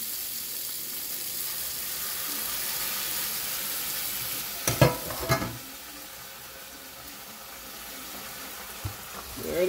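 Jerk smothered pork chops sizzle in a pan with a steady low frying hiss, broken midway by a few louder clattering bursts, with no talking.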